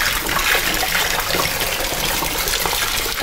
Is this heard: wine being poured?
yes